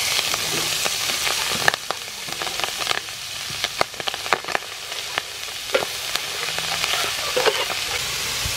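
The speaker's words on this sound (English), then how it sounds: "Add clam meat." Clam meat stir-fried in a hot pan, with a steady close sizzle and scattered sharp scrapes and clatters of a utensil stirring against the pan throughout.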